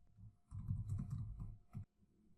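Keys pressed on a computer keyboard while navigating a Windows startup menu, a short burst of close, soft clicking taps that stops abruptly with one final press.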